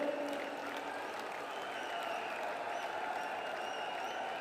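A large crowd at a political rally in Jaipur claps loudly and continuously, a dense wash of applause that holds steady throughout.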